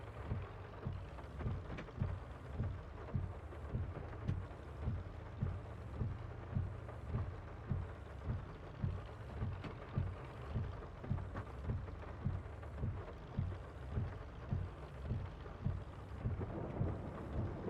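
Steady rain with low rumbling thunder beneath it in the video game Farming Simulator 22, accompanied by regular pulsing thumps throughout, no voices.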